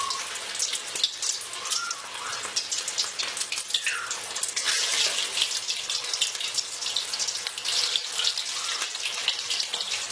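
Nargisi koftas dropped into hot oil in a kadai fry with a steady, dense sizzle and crackle that holds loud and close for the whole stretch, with no talking.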